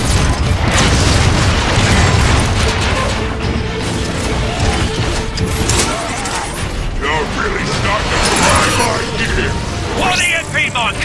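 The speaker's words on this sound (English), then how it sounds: "Airstrike commencing." Airstrike explosions in the video game Transformers: Fall of Cybertron, with dense, loud booms, crashes and metallic mechanical clatter running throughout under busy game noise and voices.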